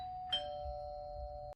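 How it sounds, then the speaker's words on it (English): A doorbell rings once with a sustained electronic chime tone, clear and fairly close, in a quiet room with no talking. "I hear the doorbell"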